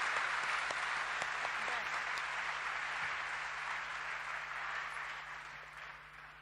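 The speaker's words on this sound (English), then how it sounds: "Give Yasinia another round of applause" Audience applause at an awards session, a steady sustained clapping from a crowd that holds for several seconds and then gradually fades.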